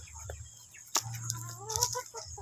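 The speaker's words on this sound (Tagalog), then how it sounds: "Ayan, hybrid na manok." Hybrid chickens on a farm give soft, scattered clucks and short calls, fairly close and moderately quiet, with light background noise.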